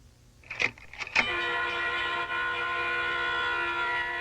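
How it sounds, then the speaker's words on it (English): An approaching train sounds its horn in a long, sustained blast after a few brief metallic clanks, the steady tone holding loud for several seconds with no voices. "this time I heard the train coming"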